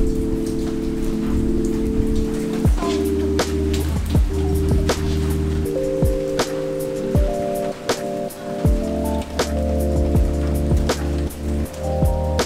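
Rain falls in the hillside village of Jiufen, Taiwan, as a steady close patter with scattered sharp drop taps. Sustained tonal sounds drone underneath, and there is no speech.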